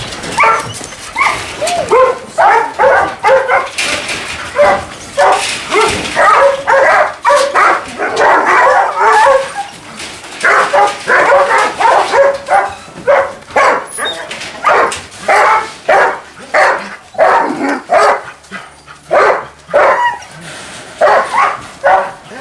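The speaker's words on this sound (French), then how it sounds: "Quentin, je suis assez curieux de rendre visite à ces fameux chiens de chasse croisés Alaskan" Several Alaskan cross hunting dogs in a kennel bark, yip and whimper in rapid overlapping bursts. The chorus is loud and close and carries on almost without a break.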